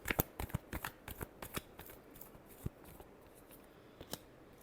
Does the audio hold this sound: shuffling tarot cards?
yes